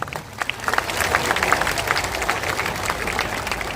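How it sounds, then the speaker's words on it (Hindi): Dense crowd applause fills a party launch rally hall, steady clapping from many hands with some murmuring voices underneath, loud and continuous throughout. "लेकिन ताली बजा दीजिए।"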